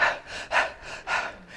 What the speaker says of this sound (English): I noticed a bit of shallow breathing going on.